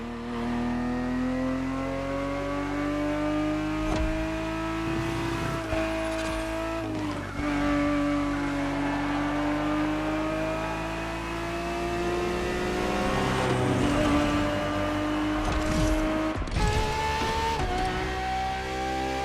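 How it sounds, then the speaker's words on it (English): A Ferrari 365 GTB4 engine in the racing game The Crew Motorfest revs hard and continuously, climbing through gears with brief dips at shifts and occasional tire squeal, loud and sustained throughout. "The Ferrari 365 GTB4 is the perfect vehicle for you to experience Ferrari racing as it felt back in the 70s"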